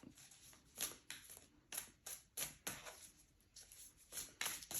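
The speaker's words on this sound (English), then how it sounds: "I'm going to do 3 more shuffles" Tarot cards shuffled by hand in a repeated series of crisp riffling bursts, close and fairly quiet, with short pauses between shuffles and no talking.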